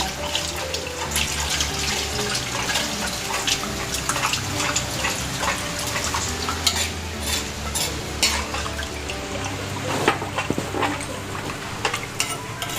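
Coconut milk being stirred into a karimeen fish curry in a pan: continuous wet sloshing and bubbling with scraping utensil strokes, fairly loud and close, with no talk.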